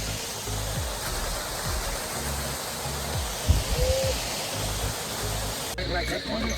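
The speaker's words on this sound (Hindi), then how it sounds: "ये रहा जो मैंने पीछे से दिखाया था हमारा पहला झरना।" A waterfall on the Kedarnath trek gives off a steady, broad rushing roar that fills the whole stretch, with brief low bumps and handling noises over it.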